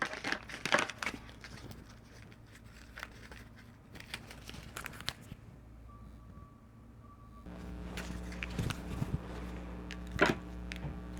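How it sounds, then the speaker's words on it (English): Tarot cards are shuffled in brief bursts of papery riffling and crinkling, separated by quieter gaps and a low background hum, close to the microphone with no talk. "we give these a little shuffle"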